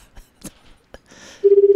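A telephone number being dialed: a few soft clicks and taps, then a clear, steady pulsing tone that rises loud and near at the end.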